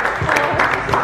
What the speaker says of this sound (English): Can we give my mom a round of applause?